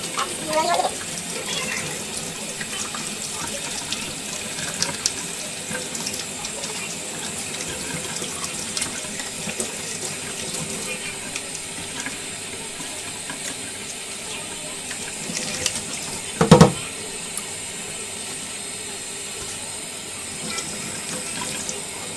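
Tap water runs steadily from a sink faucet while vacuum cleaner parts are rinsed and scrubbed, a constant wash of noise with a brief louder splash or clunk near the end.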